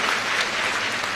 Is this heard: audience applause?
yes